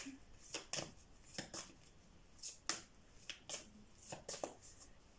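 Angel oracle cards shuffled by hand in short, crisp riffling bursts, about nine quick flutters spaced irregularly over a quiet room, fairly close and soft.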